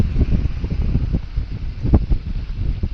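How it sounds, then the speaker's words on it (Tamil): Strong cold wind buffets the microphone during a ride on a Royal Enfield Himalayan motorcycle on a main road, loud gusty rumbling that rises and falls with scattered bursts, with no talking. "காற்று ரொம்ப அடிக்குது. குளிர்ந்த காற்றா இருக்கு."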